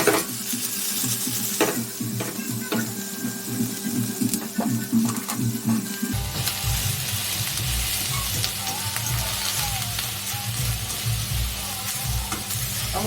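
Llama meat hits a pan of garlic-infused oil and starts frying, a quieter clatter giving way about halfway to a loud, steady sizzle and crackle up close.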